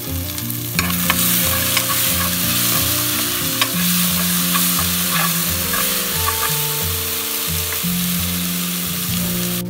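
Chopped tomato stirred in a hot frying pan for an Indian-style spaghetti, with a steady close sizzle and repeated scraping stir strokes throughout, no talking.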